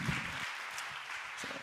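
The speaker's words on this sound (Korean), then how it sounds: "박수." A church congregation applauds to welcome a missionary at a Friday late-night prayer meeting, with soft, continuous clapping spread across the room for a brief moment.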